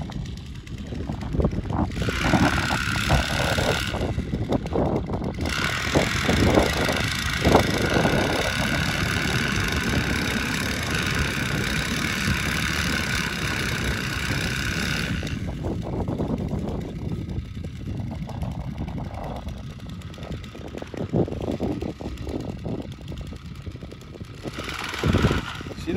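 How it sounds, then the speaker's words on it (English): An engine runs at a steady mid-pitched idle while its throttle creeps up on its own, a continuous rumble with some clatter and rustling close by and no speech. "don't seem like she's working right. Throttle's creeping up on her."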